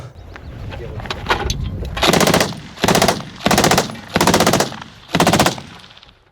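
A captured Russian RPD machine gun fired outdoors: five loud, close bursts of rapid automatic fire, each lasting about half a second, separated by short pauses and preceded by some handling clatter.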